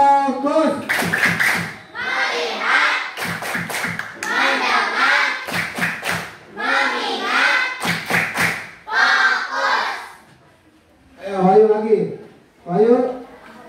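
Children in an Indonesian classroom perform the rhythmic 'tepuk fokus' clapping chant, sharp claps in grouped bursts alternating with loud sung-spoken chanting voices, ending in a few quieter spoken phrases.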